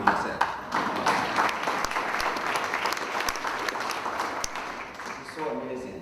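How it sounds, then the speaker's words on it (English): Applause from a dinner crowd at a charity event in Iowa City, scattered and fairly faint clapping from many hands in a large room, trailing off toward the end as a voice begins. "So thank you, and clap the hand for yourself"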